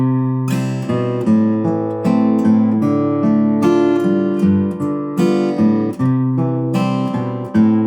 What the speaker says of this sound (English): The 1, 6, 2, 5 is very common in jazz music,